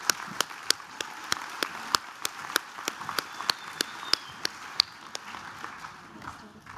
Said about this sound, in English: Can we have a final round of applause for Beauty Level 3?